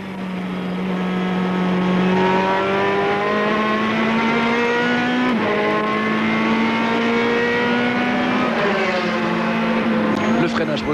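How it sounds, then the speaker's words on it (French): Race car engines roar at the 2006 Spa 24 Hours as a Saleen overtakes. A loud, steady close-up engine drone climbs in pitch through gear changes and has a brief surge as the other car passes. "On vous laisse apprécier le bruit. Hein. Le son. Et la Saline qui nous dépasse."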